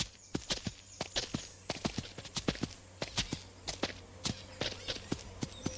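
Horse hooves clip-clop in a steady walking rhythm in a video game scene, a close series of crisp knocking steps with no speech.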